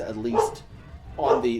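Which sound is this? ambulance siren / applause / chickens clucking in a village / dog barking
dog barking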